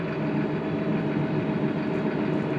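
A Massey Ferguson 7S.155 tractor engine rumbles at a constant idle, deep and continuous with a slight vibrating texture, close by and with no voices.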